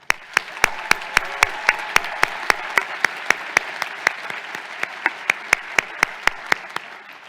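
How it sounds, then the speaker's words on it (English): Audience applause at the 2023 UConn Law commencement ceremony, a steady wash of clapping from a large crowd that holds evenly for about seven seconds, with sharp regular clicks punctuating it throughout. "Please join me in thanking and applauding them"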